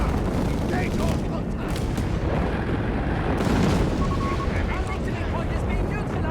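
Artillery barrage in Company of Heroes 3: a dense, continuous rumble of booms and blasts throughout, with a commentator talking over it.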